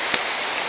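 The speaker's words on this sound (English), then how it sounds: "And it's raining heavily, like cats and dogs." Heavy rain pours steadily with a dense, constant hiss, one brief louder splash near the start, and no voices.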